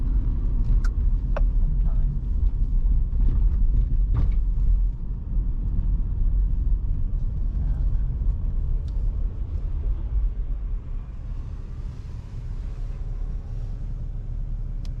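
Steady low road rumble and engine drone from inside a car driving along 11th Street in downtown Kansas City, continuous and fairly loud with faint passing traffic noises.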